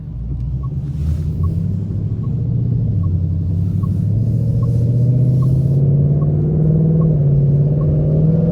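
A 2019 Ford Mustang GT with a Brembo brake package rumbles along under steady throttle, its deep engine and exhaust drone rising gradually in pitch while driving, loud and continuous with no talk.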